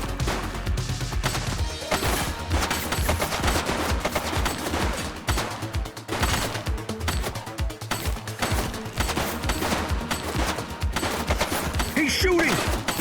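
A suspect firing in the police game The Precinct, with dense bursts of rapid automatic gunfire running nonstop at close range, overlapped by shouted voices.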